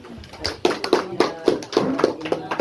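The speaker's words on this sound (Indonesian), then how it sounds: "Oke, tepuk tangan dulu." A classroom of students claps in unison, with about eight evenly spaced, sharp claps in a steady rhythm, plus a little background chatter.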